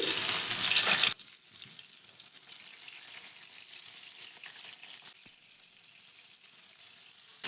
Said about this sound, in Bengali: এখানে তেলটা কিন্তু আমার গরম হয়ে গেছে এবার আমি একে একে বেগুনগুলো দিয়ে দিব